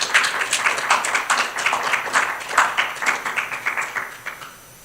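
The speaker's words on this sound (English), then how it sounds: "if everyone would give him a round of applause" An audience claps in a round of applause welcoming a speaker to a breakout session, a steady patter of many hands that tapers off near the end.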